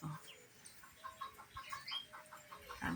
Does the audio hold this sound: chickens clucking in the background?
yes